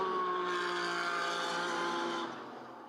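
GT race cars at the Zhuhai circuit roar past in a loud, sustained engine note that fades toward the end as they move away.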